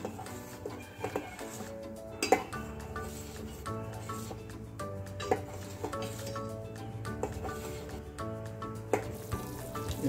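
Egg sambar ingredients being stirred together in a pan, a quiet steady sizzle and simmer with repeated light scrapes and clinks of a spoon against the metal, alone with no voices.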